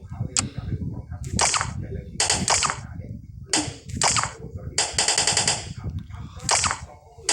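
Small gun firing in a video game, heard as several short bursts of rapid sharp shots with gaps between them, fairly loud over a low background rumble.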